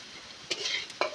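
A spoon stirs chopped tomato and spices in a hot frying pan, two quick scraping strokes over a faint sizzle, close and short.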